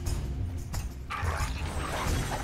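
A dog in the A Game of Thrones video game gives short yips and whimpers during a brawl, fairly faint, over a low rumbling background and scuffling sounds.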